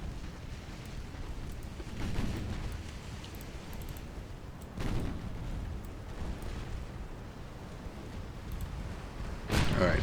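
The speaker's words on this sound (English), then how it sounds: "let's get our battleships firing on these heavy cruisers" Battleship main guns fire during a naval battle in the game UA: Dreadnoughts, heard as deep rumbling booms at a distance, with three separate salvos rolling over a constant low background roar.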